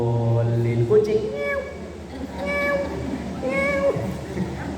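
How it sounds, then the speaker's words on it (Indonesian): A cat meows repeatedly in a home during evening prayer, several drawn-out close meows with a person's voice heard alongside. "Waduh, kucing."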